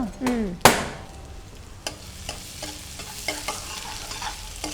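Finely chopped ginger dropped into hot oil in a pan for baby corn biryani: a sharp burst of sizzle and a loud clank at first, then steady frying hiss with light scraping taps of a spoon.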